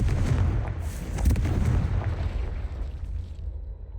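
A Confringo spell explosion in a video game lets out a loud, broad rumbling blast that rolls on and slowly fades over several seconds.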